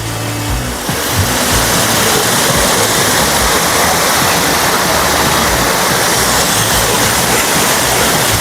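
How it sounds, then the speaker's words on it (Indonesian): Waterfall at Flume Gorge roaring in a steady, loud, continuous rush of falling water that swells up after a quieter first second and holds evenly to the end, with no talking. "air terjun di Flam Gorge"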